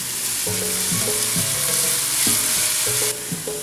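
Onions sweating in a pan before sofrito goes in for picadillo, a steady close sizzle and hiss with faint stirring, while music with a melody plays underneath throughout.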